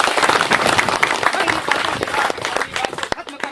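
A rally crowd at an AIMIM gathering claps loudly to welcome Barrister Asaduddin Owaisi: a dense, continuous burst of applause with voices calling out over it.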